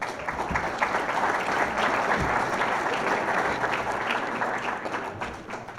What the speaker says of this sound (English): please give all of them a great round of applause